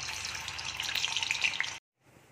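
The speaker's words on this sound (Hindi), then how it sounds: "पनीर को जो है थोड़ा सा फ्राई करूँगी लिटिल लिटिल" Paneer pieces lightly fry in hot oil with a close, busy sizzle and crackle for almost two seconds, then it cuts off abruptly and only a faint, quiet background remains.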